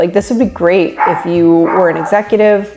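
Dogs bark indoors in repeated loud, close yips and woofs, tangled with someone talking over them throughout.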